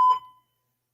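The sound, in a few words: fire alarm beeping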